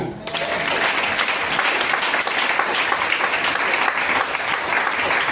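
A congregation claps together in sustained applause throughout, dense and steady from start to finish after a brief quiet opening, loud and close.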